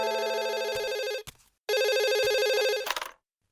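Two loud bursts of a cartoon telephone ringing, each a bright, rapid electronic trill lasting about a second, separated by a brief pause. The second burst cuts off abruptly, followed by silence.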